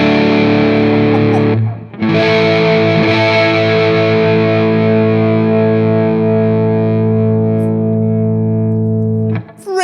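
Electric guitar on its neck pickup, a DiMarzio, played through a Laney Lionheart L20H amp with just a cable: a rich, thick overdriven chord rings out, is restruck and sustains long, loud and close, with no talking.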